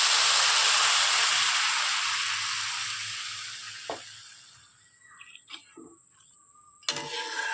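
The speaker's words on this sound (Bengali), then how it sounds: "জলটা দিয়ে দেবো" Water poured into a hot pan of rice for basanti pulao, a loud rushing sizzle and hiss that gradually fades, followed by a few brief clinks and knocks near the end.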